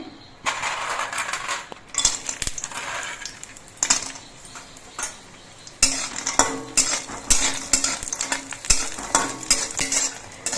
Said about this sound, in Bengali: ডালের বড়িগুলো আমি প্রথমে ভেজে নিচ্ছি